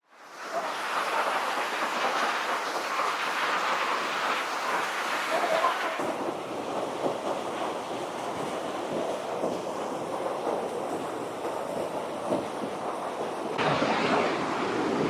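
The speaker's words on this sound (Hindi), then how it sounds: "और ये है जिभी का मेन वाटरफॉल।" The main waterfall at Jibhi roars as a steady, broadband rush of falling water, loud and continuous throughout with no voices over it.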